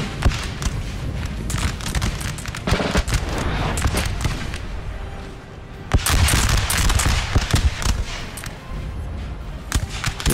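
Massed musket volleys crackle from several infantry units in a Napoleonic battle game, a dense, continuous rattle of overlapping shots with louder bursts around the middle, heard without talk.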